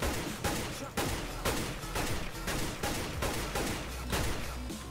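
Rapid gunfire from Counter-Strike: Global Offensive, a steady string of sharp shots at an even fast rhythm, loud and continuous throughout.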